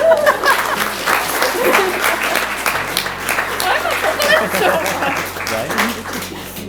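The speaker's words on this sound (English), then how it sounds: "I think they deserve a round of applause" Wedding guests break into warm, sustained applause after the vows, a dense crowd clapping that stays loud throughout, with some chuckles and talk mixed in.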